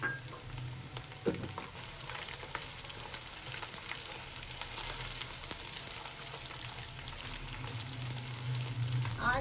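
Crushed coriander, fennel and chilli spices frying in a pan on low heat, giving a soft continuous sizzle with occasional light stirring clicks, fairly quiet and steady with no voices.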